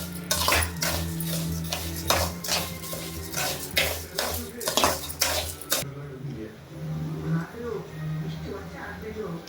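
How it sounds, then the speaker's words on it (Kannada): Soaked rice is stirred in a pan, a spoon scraping and clinking against the metal in rapid repeated strokes that then soften into quieter rustling, with a voice talking over it. "ಬಸೆ ಹಾಕ್ಕೊಂಡ್ರೆ ಅಕ್ಕಿನ ಬಾಂಡ್ಲಿಗೆ ಹಾಕ್ಕೊಂಡು ಹುರ್ಕೋಬೇಕು."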